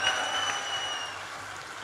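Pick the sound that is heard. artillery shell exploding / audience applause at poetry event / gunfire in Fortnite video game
audience applause at poetry event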